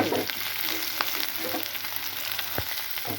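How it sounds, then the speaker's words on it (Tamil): Finely chopped small shallots sautéing in hot oil, a dense continuous sizzle with light stirring clatter and a couple of soft knocks, close and steady with no voices. "வெங்காயம் கொஞ்சம் நல்லா வதங்கணும்"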